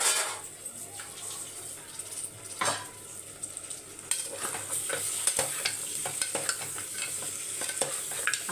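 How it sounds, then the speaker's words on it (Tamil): Washed goat trotters being stirred with masala in a pot, with scraping spoon strokes and occasional sharp clinks over a steady, faint sizzle throughout. "அப்படியே மிக்ஸ் பண்ணி ஒரு அஞ்சு நிமிஷத்துக்கு விட்டுருங்க"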